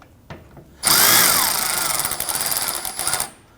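Power tool snugging down bolts on the thermostat housing of a 2009-2017 Volvo XC60 3.2L inline-six, a loud close whirring burst of about three seconds after a brief tap, alone without talk.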